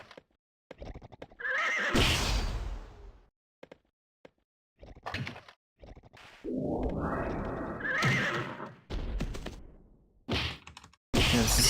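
Horse whinnying in the online game Mabinogi, loud drawn-out neighs that come in bursts and are separated by short thuds, clip-clops and silent gaps.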